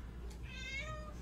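A male cat lets out a single short, loud meow close to the microphone over quiet room hum.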